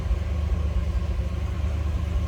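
A 1957 Cadillac Series 62 sedan engine idles steadily with a low, even rumble, heard from the rear, continuous and unchanging throughout, with no voices.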